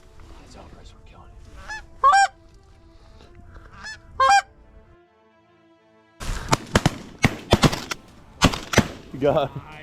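Canada geese honk in short bursts during a Missouri goose hunt, calls near and loud over a low background, followed by a cluster of sharp shotgun blasts mixed with brief talk.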